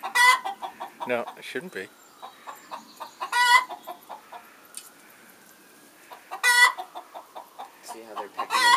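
Chickens cluck nearby in short, repeated bursts separated by quieter gaps as they peck in sand, while a person says a few words.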